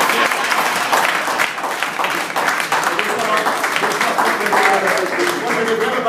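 An audience applauds in a loud, continuous stretch of clapping, with voices and cheering mixed in over the sound.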